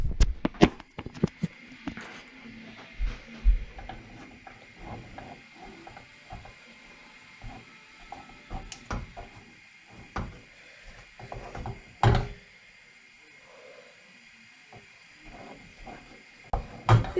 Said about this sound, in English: we're going to keep stirring